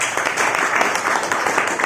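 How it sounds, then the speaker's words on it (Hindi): Strong, continuous audience applause at a motivational seminar on direct selling, a dense steady wash of many hands clapping close and loud with no pauses. "ताली बजा दीजिए एक बार जोरदार"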